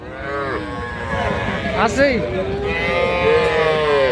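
A small calf moos loudly at a busy livestock market in Ambari, with repeated bellowing calls close by over crowd noise and a brief voice.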